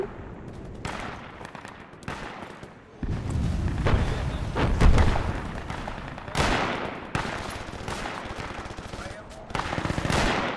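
In Project Reality WW2 on Omaha Beach, rifle and machine-gun fire cracks in quick bursts along with heavy booms, loud and close, while someone talks over it.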